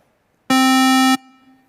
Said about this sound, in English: and square wave.